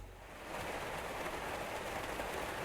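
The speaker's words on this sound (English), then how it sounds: "the entire car is engulfed in a wave of torrential rain, and the highway disappears." Torrential rain engulfs a car in the driving video game RainCheck, a dense, steady roar of rain that swells in after a moment and then holds constant, with no voices.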